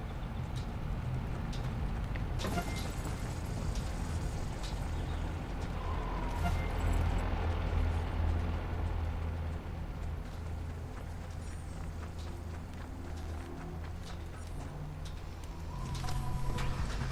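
A truck drives in the video game Watch Dogs, making a continuous low engine rumble with road noise that holds steady and swells slightly near the end, with faint game sounds mixed in.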